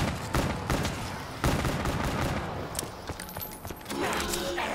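Rapid gunfire in Call of Duty Zombies, with dense bursts of shots that come in clusters and keep going through the clip over a busy game background.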